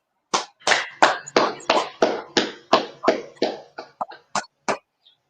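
A class clapping hands at the end of a lesson, about fourteen distinct claps in a rhythmic, slightly slowing sequence, close and clear in an otherwise quiet room.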